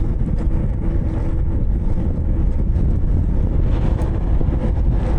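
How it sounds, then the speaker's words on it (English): Strong desert wind in Saudi Arabia buffets the microphone with a constant loud roar and rumble, steady throughout and with no voices. "Still windy."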